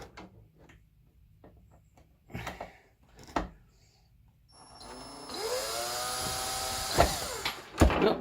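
A power drill starts a screw into layout construction work, giving a loud, rising whir over the last few seconds after scattered handling clicks and knocks.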